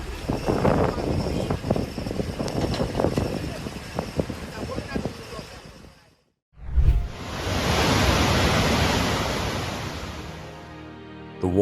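Ocean waves driving boats onto the Greek coast churn and crash in a loud broad roar, with the crash of surf filling the second half after a brief break, under background noise.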